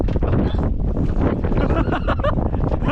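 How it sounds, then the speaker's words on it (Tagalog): Strong wind buffeting a microphone outdoors, a loud continuous low roar and rumble throughout that masks everything else. "Hangin mga idol."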